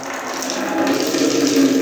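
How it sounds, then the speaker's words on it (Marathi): Hot water runs from a tap in a strong, steady stream, a close and continuous rushing hiss that grows slightly louder. "एवढी धार सोडली तर असं पाणी गरम गरम येतं."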